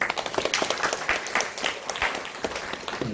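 Church congregation applauding during a Sunday worship service, a dense steady patter of clapping filling the room for a few seconds without speech.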